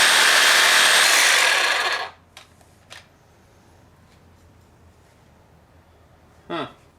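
A power tool blade grinding into a stainless steel exhaust weld, a loud harsh cutting whine for about two seconds that stops, followed by a few light knocks and a brief final burst of cutting.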